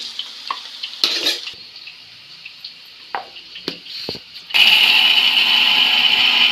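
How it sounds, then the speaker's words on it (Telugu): A mixer grinder starts after a few seconds of light clinks and handling, then roars steadily and loudly while grinding roasted peanuts and sesame. "డీప్ ఫ్రై అయ్యేలోపు పల్లీలు మిక్సీ పట్టుకుందామండి"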